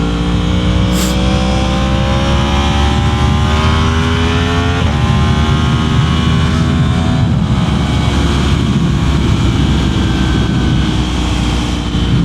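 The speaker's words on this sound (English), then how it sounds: "when I shift down, it does the auto rev matching" A Yamaha MT-10 motorcycle engine roars loud and close, its pitch climbing through gears with quick shifts and automatic rev-matched downshifts, a continuous high-revving howl.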